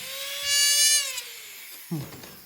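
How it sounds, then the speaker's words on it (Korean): A dental handpiece spins up with a loud, rising high-pitched whine that holds for about a second, tails off, and gives way to a brief rougher grinding burst as the bur cuts the crown of a molar prepared for a bridge. "핸드피스 소리가 어마무시하네."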